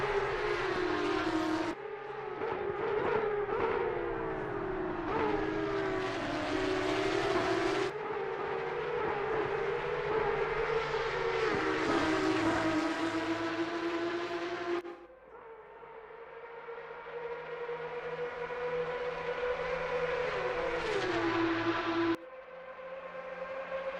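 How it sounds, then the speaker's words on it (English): Porsche Cup race cars lapping Bathurst in a sim racing game, a loud high-revving engine wail rising and falling through gear changes, with abrupt shifts as the engine note cuts and resumes. "We'll just enjoy the noise. These Porsche Cup cars."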